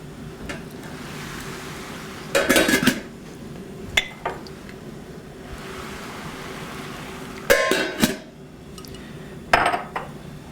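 Dishes and cutlery clinking as food is served in a kitchen, with bursts of ringing clatter at intervals over a quiet room background.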